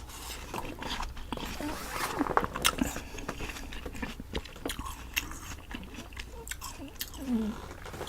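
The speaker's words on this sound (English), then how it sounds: "Maybe I'll start doing some ASMR no talking videos where I just do my eating sounds." Close-up biting and chewing of watermelon, with wet, crunchy, irregular mouth sounds and soft smacks repeating throughout without any talking.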